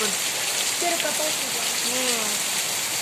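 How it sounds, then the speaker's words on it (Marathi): Steady heavy rain hisses across the whole clip, with a few faint voices murmuring underneath. "टिपका मोठा आलाय पाऊस"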